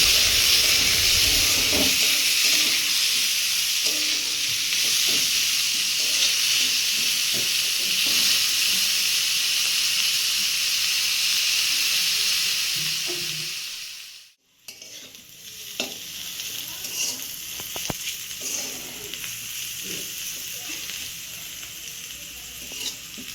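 Onions fry in oil until reddish-brown, with a continuous sizzle and stirring scrapes. The sound briefly drops out midway, then the sizzling resumes.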